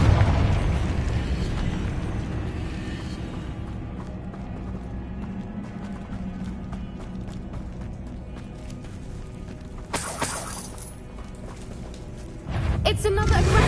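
Spell blasts from Confringo and Bombarda in the Hogwarts Legacy video game, a dense run of combat bursts and impacts over continuous game noise, with a sharper broadband blast near the end and speech heard throughout.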